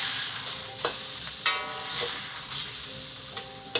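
Beef stir-fried in a pan for a Hong Kong café-style scrambled egg and beef dish gives a steady, bright sizzle, broken by several clattering scrapes of the spatula at irregular intervals, close and with no talking.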